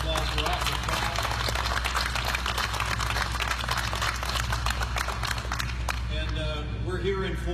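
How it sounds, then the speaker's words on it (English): An audience in an aircraft hangar claps for Missouri National Guard air wing members, a dense burst of applause filling the space while a voice talks over it. "Let's give them a big round of applause."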